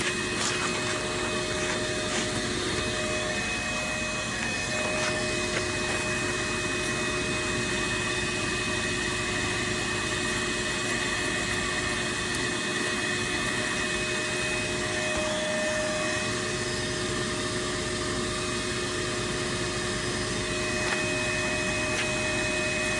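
A vacuum hose draws yellowjackets out of a nest hidden in a brick wall cavity behind an electrical box at a childcare center, giving a steady, loud, unbroken roar with a whining tone that runs the whole time.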